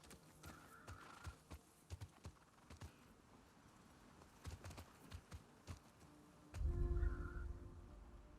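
Horse hooves clip-clop in The Last of Us Part II, sounding as a scattered run of soft, irregular thuds with a few whinnies and a heavier rumbling burst near the end; no one speaks.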